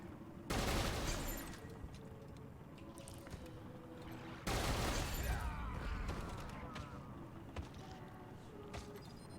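Gunfire in the video game Wasteland 3 arrives as two loud bursts of rapid shots, each decaying into a rattling tail, with faint game sounds between and no clear talk.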